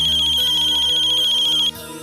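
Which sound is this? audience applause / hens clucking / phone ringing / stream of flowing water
phone ringing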